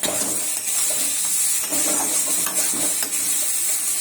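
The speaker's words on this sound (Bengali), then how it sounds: "মশলা কষাচ্ছে।" Spices sauté in a pan for rajma, a steady loud sizzle with stirring scrapes and occasional clinks of a utensil against the pan, continuous and close with no voices.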